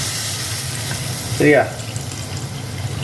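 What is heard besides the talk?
tamarind water poured into pan of sautéed capsicum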